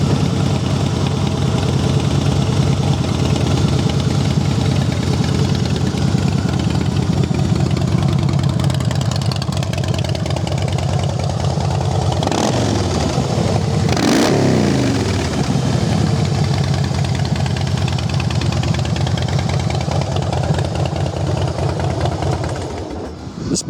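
A Harley-Davidson Softail Fat Boy FLSTF motorcycle engine runs steadily at a loud, close, rumbling idle with no voices, and a couple of brief sharper bursts come near the middle.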